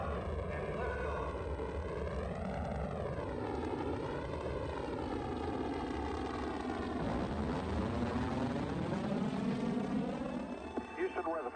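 Space shuttle liftoff, its rocket engines producing a loud, sustained broadband roar that swells and shifts in pitch throughout, with a voice speaking over it.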